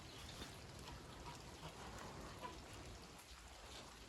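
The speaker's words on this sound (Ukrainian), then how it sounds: "Ну, дощ іде, бляха, трохи недобре" Steady rain falling and pattering on surfaces, an even hiss with scattered drops, fairly soft and constant throughout.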